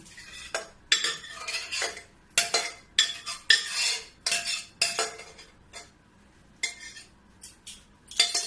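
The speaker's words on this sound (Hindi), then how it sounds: "देखो कढ़ाई में मैं छन्नी रख दी हूँ, इसी में ये डाल देती हूँ" Ripe mango pulp pressed through a metal sieve set over a wok, with a run of quick close scraping and clinking strokes coming in irregular bursts and short pauses.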